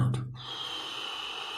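A close breathing exercise, with abdominal breathing: a brief sharp gasp-like sound, then a long, soft, steady hiss of breath trailing off.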